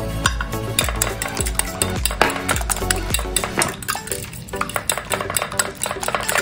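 Flying squid being whisked in a flour batter with salt: fast rhythmic tapping and scraping strokes against a bowl, close and busy, with a slight wet crackle underneath and no voices.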